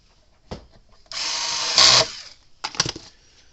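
A power drill driving a screw into an electric fence charger case during a Cyclops Super charger repair: a short blip, then about a second of steady close whirring that rises as the screw seats, followed by a few clicks and handling knocks.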